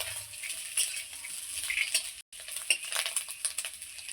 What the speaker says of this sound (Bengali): এই যে মাছের ডিমটা আমি খুব সুন্দর উল্টে পাল্টে ভালো করে সুন্দর করে লাল লাল করে ভেজে নেব